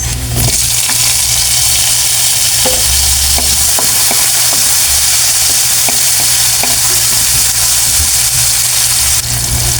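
Tomatoes go into a hot pan with garlic already fried golden brown, while bitter melon and chicken liver are being cooked. Loud, steady sizzling and frying fill the scene, with a few scattered clicks and scrapes of stirring.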